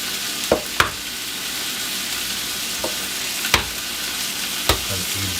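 Hamburgers frying in a pan give a continuous sizzle, broken by a few sharp scrapes and clinks as a utensil stirs them, with no voices.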